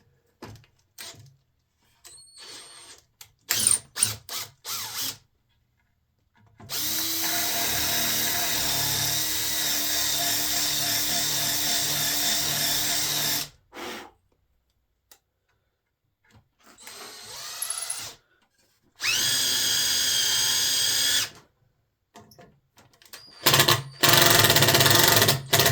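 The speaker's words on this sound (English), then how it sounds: "that's a bit stronger now because I drove that one in a bit deeper" A power drill drives screws into a steel-dusted workbench in several sustained whirring runs of a few seconds each, broken by quiet gaps and short clicks and knocks.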